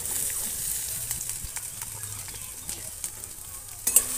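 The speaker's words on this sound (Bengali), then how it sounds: "পেঁয়াজটা হালকা নেড়ে হালকা ভেজে নেব" Chopped onions stirred and frying in a pan for a semolina snack, a steady soft sizzle with light scraping stir strokes throughout, a brief louder clatter near the end.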